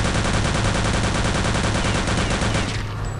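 Rapid automatic gunfire rattles in the World War II shooter game Return to Castle Wolfenstein, a loud, dense continuous burst that cuts off near the end.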